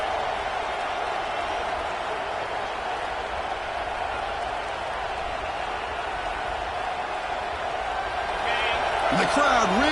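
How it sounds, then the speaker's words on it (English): Football stadium crowd roaring near the goal line to back the home defense, a broad sustained wall of noise swelling slightly toward the end, with a brief whistle-like tone near the close. "the crowd really making some noise now, trying to help out this defense to get this stop near the goal line"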